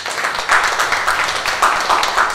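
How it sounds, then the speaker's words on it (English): A church congregation claps hands together in a loose, steady rhythm, many palms close and lively, with no talking over it. "Shall we give a hand clap to Jesus?"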